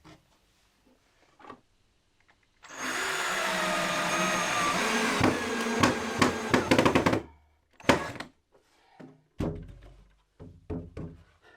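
Power screwdriver driving screws into wood panels, a steady whirring burst of about four seconds with a rising pitch, followed by a few short thunks and clicks of handling.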